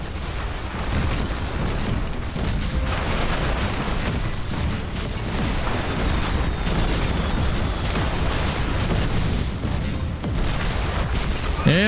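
Cannon fire and explosions in the Skylanders: Spyro's Adventure video game boom almost continuously in a loud, dense, rumbling barrage, with heavy low blasts layered over one another and no voices.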